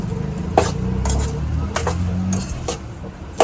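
Leftover khichdi muthia dough is mixed with white sesame in a bowl, giving a soft squishy mixing sound with several sharp utensil clinks against the dish at irregular intervals, close and fairly loud.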